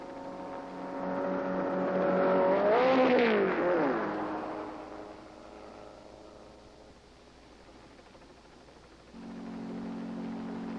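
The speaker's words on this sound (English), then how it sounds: "3 test approaches to the ramp, checking both the car and the condition of the road" A stunt car's engine rises in pitch as it revs and accelerates toward a ramp, peaking and then fading off, before a steady idle-like hum returns.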